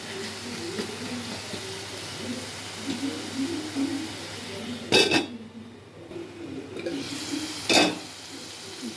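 Curry leaves frying in hot oil for chicken liver fry, a continuous sizzle with soft stirring and two sharp metallic clanks of a utensil on the pan, no voices.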